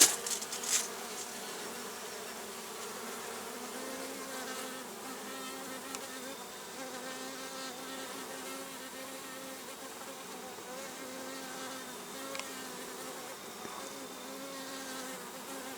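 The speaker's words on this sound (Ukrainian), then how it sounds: "Зараз показую де бджола." Steady insect buzzing of bees, a continuous droning hum with layered pitches, close by and lasting throughout without any talking.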